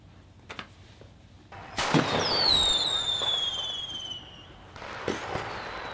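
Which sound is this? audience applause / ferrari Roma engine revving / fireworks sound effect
fireworks sound effect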